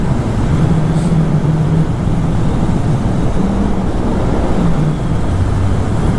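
Riding a naked motorcycle on a very hot day, a steady engine drone with rushing wind buffeting the microphone, loud and continuous with slight shifts in pitch.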